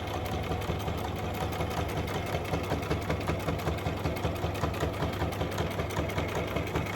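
A sewing machine stitches a clutch purse with a steady, rapid, rhythmic mechanical whir and needle chatter. It is close and continuous throughout, with no talking.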